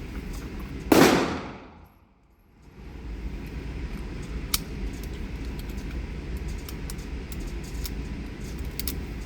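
A single sharp shot from a Dreyse model 1907 pistol cracks loud and close, followed by a brief hush and then steady outdoor background hiss with faint clicks.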